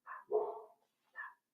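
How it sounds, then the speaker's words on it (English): Dog barking in three short bursts, a sharp yap, a longer deeper bark, then another quick yap, fairly close and alone with no talking. "Maybe I can get some help with my barking dogs."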